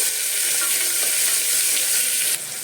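Bottle gourd and carrot pieces fry in a pan for a Telugu pappucharu, giving a steady, fairly loud hiss with a faint scrape of stirring underneath, then dropping slightly near the end.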